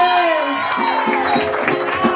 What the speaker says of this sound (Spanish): Y ese aplauso es para ustedes.